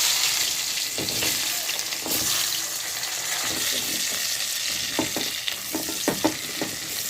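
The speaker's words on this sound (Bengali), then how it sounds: "ওই তেলে দিয়ে দেবো আগে থেকে কেটে রাখা আলু।" Pre-cut potato pieces fry in hot oil with a continuous, fairly loud sizzle, and a spatula stirs and scrapes the pan repeatedly throughout.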